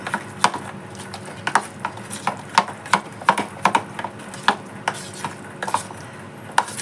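A spoon stirs tandoori chicken marinade spices into yogurt in a bowl, with steady rhythmic clinks and scrapes against the dish, close and clear, no talking.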